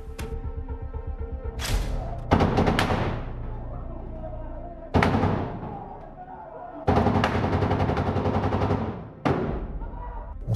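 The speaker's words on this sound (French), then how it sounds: "On se prend une rafale complète de chargeur complet d'AK-47 à 5-6 mètres de distance directement dans le bouclier" AK-47 automatic fire rattles in several long full bursts from about five or six metres away, rounds slamming into a ballistic shield during an assault, loud and close with sharp cutoffs and brief gaps between volleys.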